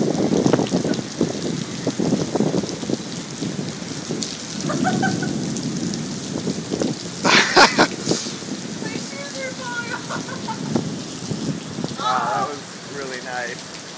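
Heavy rain pours steadily, with a crackle of drops hitting surfaces; voices talk briefly over the downpour.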